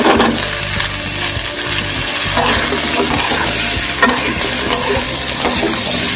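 Carrot, papaya and potato pieces stirred and frying in a hot pan, with steady loud sizzling and repeated scraping, clattering strokes of a spatula against the metal throughout.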